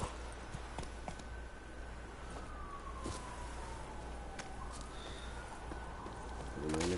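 Geralt's horse Roach from The Witcher 3 trots with steady rhythmic clip-clop hoofbeats, heard close over a continuous ambient bed with a long tonal whine gliding down in the background.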